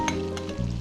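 Chopped onions and three cloves of chopped garlic sautéing in a hot pan, a steady close sizzle with a brief louder hiss near the end.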